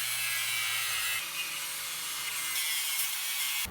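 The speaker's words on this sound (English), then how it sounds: "So we're going to go ahead and use this grinder." An angle grinder cuts through a stripped nut on a Jeep, giving a continuous loud, bright hissing grind close up that holds steady for several seconds with a slight shift in pitch midway.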